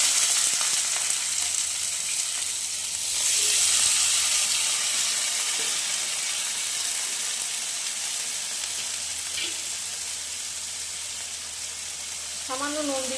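Malabar spinach sizzling and frying in hot oil, a steady loud hiss with a brief swell, stirring clinks near the end.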